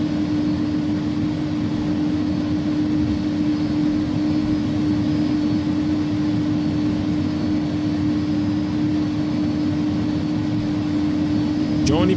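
Airbus A300-600R jet engines roar through a takeoff roll in the X-Plane 12 flight simulator, a steady loud drone with a constant tonal hum and no break.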